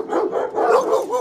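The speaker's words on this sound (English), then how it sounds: "just because the cool kids are barking doesn't mean you have to" A dog at the San Bernardino City animal shelter gives a short, close, whining bark that rises and falls over about a second.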